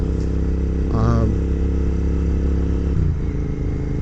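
A cafe racer motorcycle with auxiliary lights rides along, its engine holding a loud, steady low drone with wind noise and a brief shift in pitch, heard close up with no talk.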